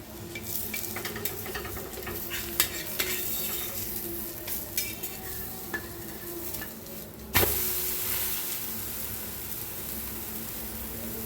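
Dhapate flatbread roasting in oil on a hot griddle, a continuous close sizzle with occasional light scrapes and clinks, then one sharp crackling burst as more oil or water hits the pan.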